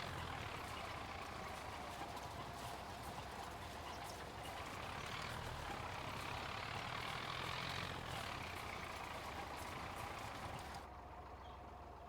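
A tractor engine in Farming Simulator 25 drones steadily and loudly throughout, a continuous low mechanical rumble with a broad hiss and slight shifts in pitch, alone without talk.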